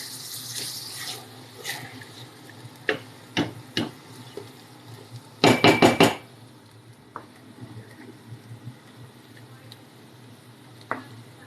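Pepper stew is stirred in a pot, with scattered spoon knocks against the pot's side and a burst of four rapid scrapes in the middle, close and moderately loud, with quiet gaps between.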